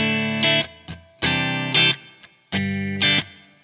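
Electric guitar chords through an amp with reverb, captured via a Two Notes Torpedo Captor X set to a vintage Marshall 4x12 cabinet: three bursts of strummed chords, each with a trailing reverb tail, clean and close.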